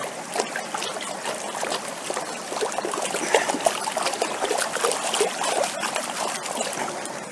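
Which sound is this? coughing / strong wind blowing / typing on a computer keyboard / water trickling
water trickling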